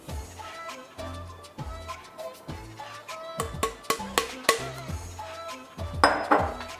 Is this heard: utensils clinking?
yes